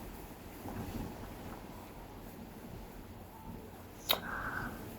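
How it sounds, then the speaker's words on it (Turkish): Steady, blustery video game wind noise rushes continuously throughout, with a brief sharp click near the end. "Oo, şiddetli rüzgar."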